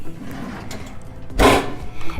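A kitchen drawer for pots slides with a short rumbling scrape and lands with a close, loud clunk after a stretch of quiet room noise.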